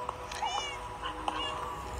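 A cat meows a couple of times in a Minecraft Pokemon game, moderately close and fairly soft over a quiet background hum.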